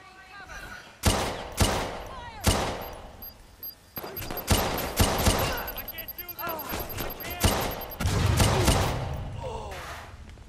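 Sharp bursts of gunfire ring out in a Watch Dogs 2 action game, close pistol shots in quick irregular clusters with echoing tails, no voices in between.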